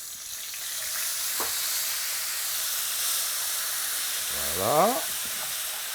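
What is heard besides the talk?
deglazing a hot pan with a little water, sizzling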